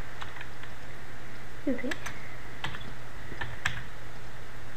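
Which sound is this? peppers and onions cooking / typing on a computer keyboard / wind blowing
typing on a computer keyboard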